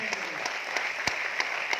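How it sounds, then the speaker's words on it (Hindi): A seminar audience in Aurangabad claps in a dense, steady wash of applause with a few sharper claps standing out, heard at moderate volume with some voices underneath. "ताली जोरदार वाली बजाइए"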